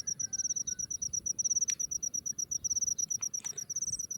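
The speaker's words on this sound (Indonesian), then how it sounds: "suara jangkrik celiring" Steady, rapid pulsing chirps of a cricket repeating without pause on a hot, sunny morning in a village fishing spot, close and clear, with a couple of faint clicks in the background.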